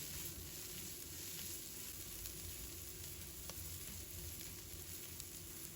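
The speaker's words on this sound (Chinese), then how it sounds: "再把红辣椒、芹菜加进来，继续开大火，快速的给它翻炒一下" Red chili and celery are tossed in a wok over high heat after garlic, giving a loud, continuous sizzle with faint scraping and no talking.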